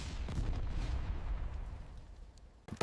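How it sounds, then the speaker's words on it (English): Secondary explosions tear through a tank shed as rockets hit fuel and ammunition during a wartime raid, a dense continuous rumble of booms that fades slightly before a sharp final crack. "The tank shed erupts in secondary explosions as rockets find fuel and ammunition."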